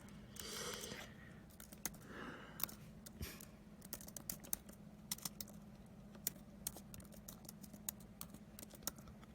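Quiet typing on a computer keyboard, scattered keystrokes tapping close by at an uneven pace in a hushed room.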